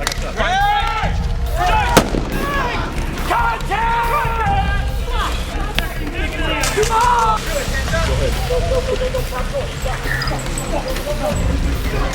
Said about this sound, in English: I guess these contractors are shooting at whoever.